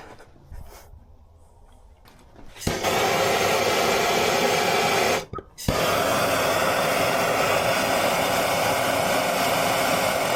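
A steady, loud blowing hiss of a heat source aimed at stuck brake parts, likely a torch or heat gun, starting abruptly after a quieter stretch, cutting out briefly near the middle, then resuming and running on to the end.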